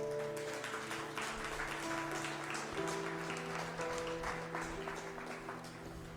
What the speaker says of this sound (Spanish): Si le va a dar palmas, déselas al Señor